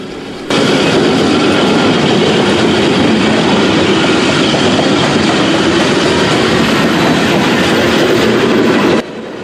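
CSX 8902, an EMD SD70ACe-T4 locomotive running as distributed power on a long freight train, passes close by in a loud, continuous roar of engine and rolling wheels that starts abruptly and cuts off near the end.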